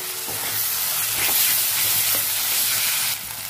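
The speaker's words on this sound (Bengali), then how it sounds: "ভালো করে নেড়ে ভেজে নেবো।" Onion, chilli and ginger-garlic paste stir-fry in a pan with a loud, close, continuous sizzle and hiss, broken by faint scraping stirs, easing off slightly near the end.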